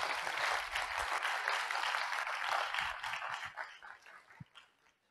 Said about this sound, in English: Okay, a huge round of applause for Pratik.